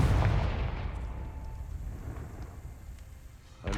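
A Confringo fire spell bursts in Hogwarts Legacy, a loud booming blast at the start that rolls off into a fading rumble, with a sharp new impact right at the end.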